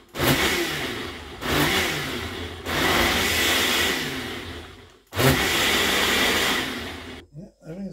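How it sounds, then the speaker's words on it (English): Blender with its lid on whirring through sauce ingredients including oil for a Samoan dish, loud bursts of motor noise in several pulses with short pauses, ending with a quiet thump. "let's put a lid back on and blend it up again to mix it all in."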